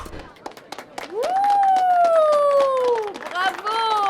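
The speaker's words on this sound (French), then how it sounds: "Merci pour vos chaleureux applaudissements." Warm clapping and crowd noise swell from a live music audience, a steady wash of applause beneath a long rising and falling vocal tone held over it.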